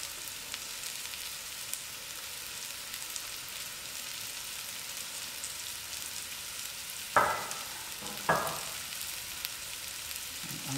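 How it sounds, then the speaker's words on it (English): Vegetables for a chunky butternut soup tumble into a hot pot, and a steady, soft sizzle runs throughout, broken by two sharp drop-like hits a second apart near the end. "Now I will add in my other vegetables. Just drop them all in."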